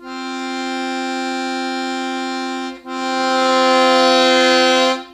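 Two sustained harmonic tones in a four-to-three ratio, one after the other, each holding steady for a few seconds; the second starts just above the first, forming a consonant interval.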